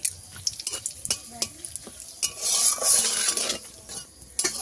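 Whole garam masala spices, three cinnamon sticks, three cardamom pods and three cloves, with a bay leaf and a dried red chilli, frying in hot oil for egg curry, crackling and sizzling loudly with stirring clinks of a spoon against the pan.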